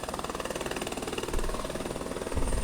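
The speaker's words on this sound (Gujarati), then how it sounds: "હવે હેલિકોપ્ટર અહીંથી ટેક ઓફ થાય છે." A helicopter lifts off with a steady, close rhythmic rotor chop over a droning engine, swelling louder toward the end as it climbs.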